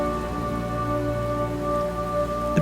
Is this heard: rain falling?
yes